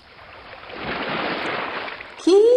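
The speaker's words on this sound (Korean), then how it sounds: "깊고 푸른 바다에 파도가 철썩철썩 일렁여요" Ocean waves washing in a broad, rising hiss of surf that swells and fades over a couple of seconds, close and fairly loud, with a voice beginning at the end.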